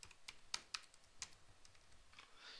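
A password being typed on a computer keyboard, heard as a quick run of light, sharp key clicks in an uneven rhythm, faint and close with no other sound.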